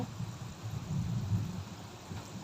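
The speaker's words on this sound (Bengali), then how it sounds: "আজকে বৃষ্টি নামছে বিকালবেলা কতটা বৃষ্টি অনেক বৃষ্টি হইতেছে" Heavy afternoon rain falling outdoors, a steady rushing wash with a deep low rumble swelling in the middle, continuous and close, with no talking.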